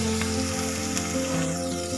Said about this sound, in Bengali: এতে আমি একটা বর্ষায় যে পেঁয়াজ কুচিয়ে রেখেছি সেটাকে আমি দিয়ে দেবো